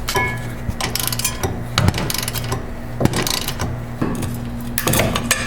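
A wrench loosening nuts on a truck drive shaft center support, with repeated close metallic clicks, clanks and ratcheting bursts over a steady hum, heard in uneven clusters.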